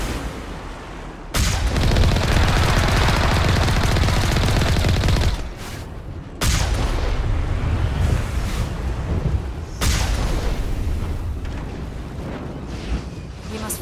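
Heavy artillery blasts and gunfire in the video game Mass Effect on Virmire, three long, roaring broadband bursts that start abruptly and sustain for several seconds each, loud and close, with no talking.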